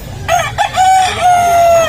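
A rooster crows nearby at a chicken market in Bulacan, one long drawn-out call preceded by a couple of short rising notes, over faint background murmur.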